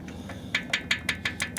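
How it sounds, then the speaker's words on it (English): A 2011 Harley-Davidson Road Glide twin cam engine with a knocking lifter, giving about seven sharp metallic ticks at a steady rhythm, close and fairly quiet, over a low idle rumble. "I can hear a knock every time you touch it."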